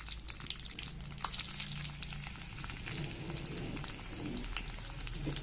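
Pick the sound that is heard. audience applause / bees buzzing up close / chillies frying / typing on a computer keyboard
chillies frying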